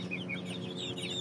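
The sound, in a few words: chicken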